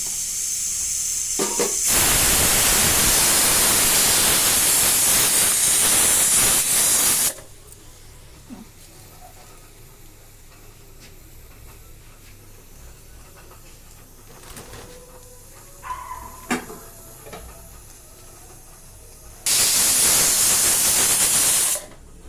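Tempering spices crackle and sizzle in hot oil, a loud dense hiss that fills the opening seconds, cuts to quiet kitchen background, then swells loudly again near the end.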